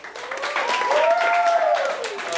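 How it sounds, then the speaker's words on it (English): Stand-up comedy show crowd gives a full round of applause, steady massed clapping with a few raised voices or cheers over it, holding level to the end. "And how many people have not seen The Irishman by a round of applause?"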